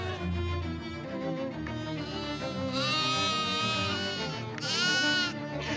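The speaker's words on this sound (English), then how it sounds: "A lot of sheep." Sheep in a video game bleat repeatedly, with several wavering, layered calls that rise louder toward the middle and end and play continuously with no talking.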